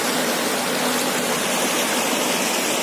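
Hot spring water at Thermopylae, rich in sulphur, chlorine and sodium, flows in a steady, close, broadband rush with no break and no voices over it.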